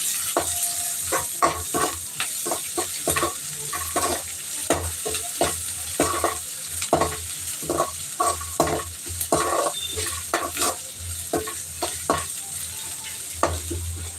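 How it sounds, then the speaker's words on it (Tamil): Squid masala is stirred steadily in a frying pan, a continuous sizzle with a rhythmic scrape and rustle from the spoon, close and moderately loud. "ஸோ இதை நல்லா மிக்ஸ் பண்ணி விட்டுக்கலாம்"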